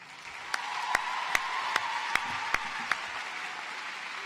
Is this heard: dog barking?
no